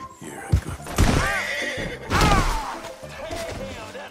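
A horse in Red Dead Redemption 2 neighs twice, loud shrill whinnies close by, mixed with hoof thumps and clattering movement.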